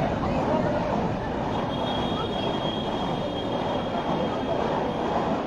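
A passenger train passing on a local rail line, a steady loud rumble of wheels on track with a faint high squeal above it, continuous throughout.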